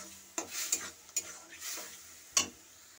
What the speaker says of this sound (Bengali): দিয়ে এটাকে ভালো করে আমি এটাকে নাড়ব।